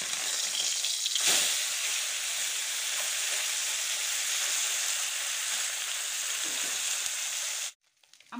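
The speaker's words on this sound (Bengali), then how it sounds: "তেলটা গরম হয়ে গেছে, মাছগুলোকে আমি ভেজে নেব অল্প অল্প করে।" Amudi fish fry in hot oil in a wok, a loud, close and steady sizzle for several seconds that cuts off abruptly near the end, with no talk.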